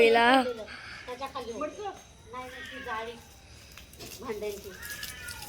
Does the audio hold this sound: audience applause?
no